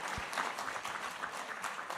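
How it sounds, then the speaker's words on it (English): An audience at an international policy summit's afternoon plenary gives a round of applause, a dense steady patter of clapping that lasts the whole moment, close and fairly loud. "he deserves a round of applause."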